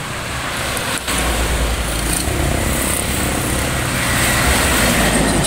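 Dense road traffic on a busy street in Teresa, Rizal, outside a closed hardware store, forms a constant loud roar of passing vehicles with steady rumble and no pauses.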